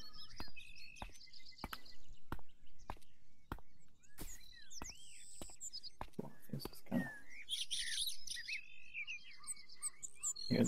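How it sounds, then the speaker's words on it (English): Chirps and tweets from a bird in an indie video game, a series of short sharp calls repeating at an irregular pace over a soft ambient background, with no talk. "Hear the bird."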